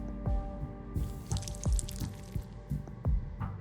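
Water is added in the video game Whisperers of a Machine, heard as a series of distinct plopping drips and splashes, about eight in an irregular rhythm, close and clear with no talking.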